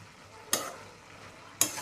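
Dill leaf bhaji stirred in a pan over a high gas flame, two sharp spatula scrapes about a second apart over a faint steady sizzle, close and alone.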